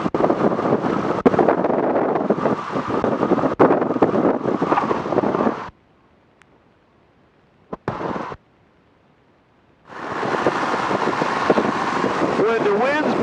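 Crosswind buffets across an airfield, loud broadband rushing against the microphone that cuts out abruptly into near silence, with a short gust in between, then roars back strongly.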